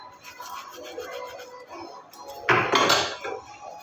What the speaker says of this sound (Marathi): काहीच आता हे घासते आहे मी गॅसचं.